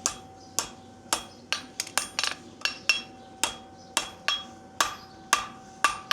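A blacksmith's hammer strikes hot metal stock flat on an anvil, with sharp ringing blows coming in an uneven rhythm of about fifteen hits. Quick doubled taps fall between heavier strokes, close and loud, and no one speaks.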